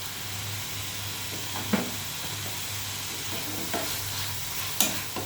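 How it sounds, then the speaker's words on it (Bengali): Tomato being stir-fried in a pan hisses with a steady, close sizzle, broken by a few light scrapes and knocks of a spatula stirring it. "এটাকে ভালো করে ভুনে নেব।"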